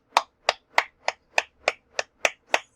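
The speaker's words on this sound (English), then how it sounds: "clap, clap your hands, clap" Nine crisp hand claps in a steady, even rhythm roughly every 0.3 seconds, close and clear, with no voices.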